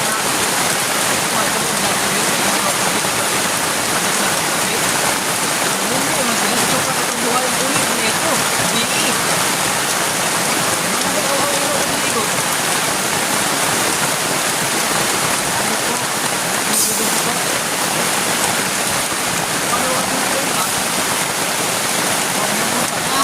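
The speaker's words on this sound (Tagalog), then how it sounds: "Guys, sobrang lakas ng ulan." Heavy rain pours down continuously in a dense, hissing roar that stays loud and unbroken throughout.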